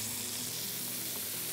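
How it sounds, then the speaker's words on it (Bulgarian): Pork tenderloin, salted and peppered, searing in a well-heated pan with a steady, dense sizzle and frying hiss throughout, fairly quiet, with no talking. "загряваме тигана добре. Слагаме свинското."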